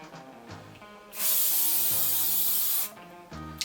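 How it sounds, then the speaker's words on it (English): A single long hiss of hairspray misted over hair styled into a 1950s half poodle do, loud and steady for about a second and a half, with quieter handling sounds on either side and no talking. "I'm gonna give it a good hairspray."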